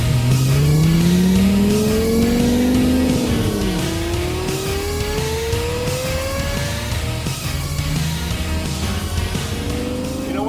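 A Lexus LFA Spyder, roof removed, its engine revving hard and sweeping up through the rev range, then dropping sharply through several downshifts before climbing again. The sharp, howling note stays loud and close the whole time.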